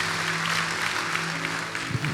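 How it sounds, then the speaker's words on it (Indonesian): Congregation applauding in a church service, a steady dense wash of many hands clapping at close range, with a low sustained organ or keyboard tone underneath throughout. "Beri tepuk tangan yang meriah buat Tuhan."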